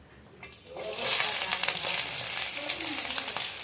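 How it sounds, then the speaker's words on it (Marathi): Onion frying in hot oil in a pan for Chinese-style Maggi noodles, a steady close sizzle that swells after the first second and carries on with faint stirring clatter. "कांदा ॲड करून घेतलेला आहे पहिला तर घेऊया कांदा भाजून"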